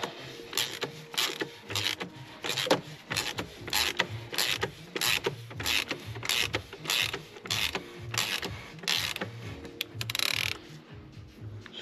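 A 27 mm wrench working on a Mercedes-Benz GLB 220 d 4Matic (X247) during a service, giving repeated ratcheting clicks in steady rhythmic strokes, close and fairly loud, with no talking.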